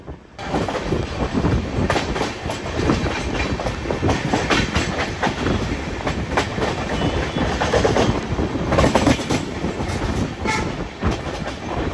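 A Kashi Tamil Sangam special train from Gudur to Varanasi rumbles steadily along the rails, loud and continuous with clattering wheel noise throughout.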